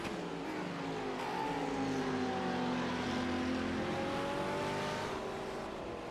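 A big Ford 427 V8 and a screaming Lamborghini GT3 race car roar past at Sebring, a sustained loud engine drone whose pitch sweeps upward and then eases off as they pass.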